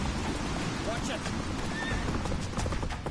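Roach, a horse in The Witcher 3 video game, whinnies loudly over the rapid clip-clop of galloping hooves amid busy game noise.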